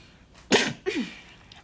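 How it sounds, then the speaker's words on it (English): One short, sharp sneeze bursts out close up, followed by a softer breathy exhale, then quiet. "Wait, I have like a sneeze coming."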